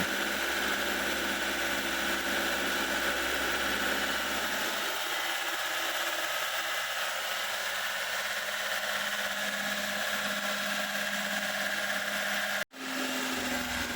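A Yamaha Avega motorcycle engine runs steadily and loudly for a long stretch during a tune-up, its tone shifting partway through, then cutting out abruptly and restarting near the end.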